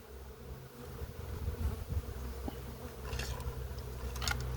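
Honeybees hum in a steady, close drone at the hive, with faint clicks and light tapping now and then.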